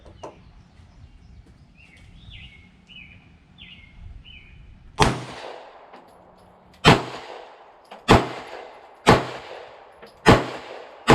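Sharp gunshots from a CZ P01 pistol firing 147 grain Sig Sauer V-Crown rounds: five loud reports at irregular intervals in the second half, each followed by a ringing echo, after a quieter stretch with faint chirps.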